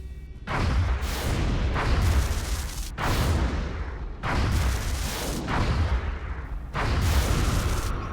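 An interceptor fires on and downs a UFO in the XCOM: Enemy Within video game, with four heavy, booming cannon bursts at roughly even intervals, each loud and rumbling before fading into the next.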